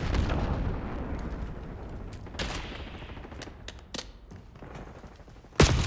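In a Call of Duty game, a frag grenade explosion comes as a loud boom near the end. Rumbling blasts and scattered gunfire sound earlier amid battlefield noise, with no talking.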